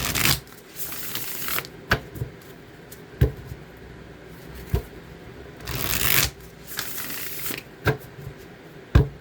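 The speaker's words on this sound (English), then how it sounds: "I'm going to use the Wild Unknown Tarot today." A Wild Unknown Tarot deck is shuffled by hand in bursts of riffling and sliding cards with sharp taps between them, close and clear, with no talking.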